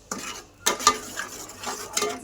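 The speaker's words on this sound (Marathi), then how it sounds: "आता मसाला पण चांगला परतून घ्यायचा" Ground masala sautéed in hot oil for mutton curry: a spoon scrapes and stirs the pan in a few uneven strokes over a soft, quiet sizzle, with no talking.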